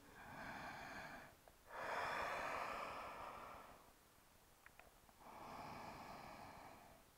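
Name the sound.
deep yoga breathing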